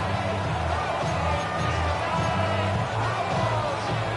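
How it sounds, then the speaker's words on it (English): Steady stadium crowd roar in Madden 26 football, a loud continuous wash of cheering fans with no breaks, while a commentator's voice sits underneath. "The crowd making their presence felt"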